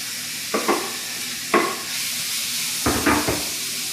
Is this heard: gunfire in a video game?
no